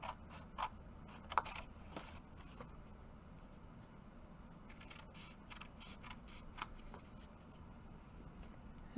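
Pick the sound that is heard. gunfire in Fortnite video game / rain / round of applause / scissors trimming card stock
scissors trimming card stock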